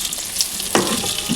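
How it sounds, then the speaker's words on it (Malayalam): Chicken pieces fry in a pan with a loud, close sizzle, broken by brief bursts of stirring. "നമ്മുടെ ചിക്കനൊക്കെ പൊരിഞ്ഞ് നമുക്ക് എടുക്കാം"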